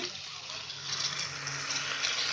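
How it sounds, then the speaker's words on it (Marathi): Water pours steadily in a continuous rushing stream into a pan of red chickpeas and cluster beans, close and moderately loud, with no voices. "पाणी ओतते बघा."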